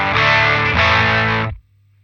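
Electric guitar through a drive pedal and a Sonicake Portal dual loop switcher: a sustained distorted chord, restruck once, then cut off abruptly, leaving faint amp hum.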